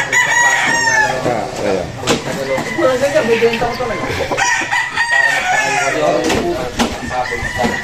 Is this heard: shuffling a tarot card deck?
no